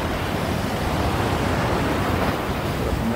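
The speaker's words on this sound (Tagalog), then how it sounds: "Taas ng alon." Big ocean waves surge at San Juan, La Union, a surfing spot, as a dense, continuous roar of surf that stays loud and unbroken throughout, with no talking.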